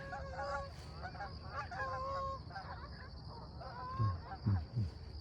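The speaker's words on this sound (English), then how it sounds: "here comes a whole bunch of geese" A flock of geese honks repeatedly on a walk, with overlapping calls drifting in and several louder, nearer honks near the end, over faint outdoor ambience.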